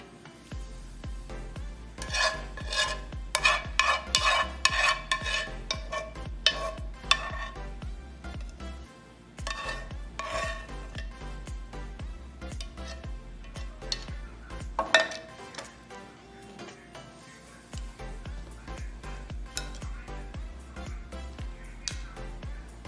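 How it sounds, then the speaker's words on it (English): A soy sauce mixture for vegan tacos is stirred and mixed in a pan, making irregular utensil scrapes and clinks over a low sizzle. The activity comes in bursts with quieter gaps between them. "we have to mix it very, very well"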